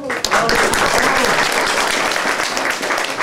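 A large crowd at a Memorial Day ceremony in Hochfelden claps steadily and loudly for a trumpet player throughout, a dense continuous wash of applause.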